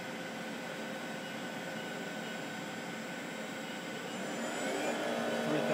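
Southwestern Industries CNC vertical mill with its spindle running at speed, giving a steady, even whir and hiss that swells slightly toward the end, heard alone without talk.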